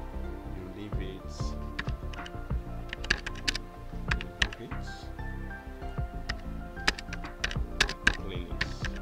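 Computer keyboard typing during a CorelDRAW flyer design, with quick irregular key clicks up close mixed with a low steady background hum.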